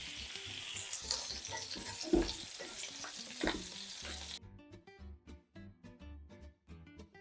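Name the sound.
meatballs (köfte) frying in a pan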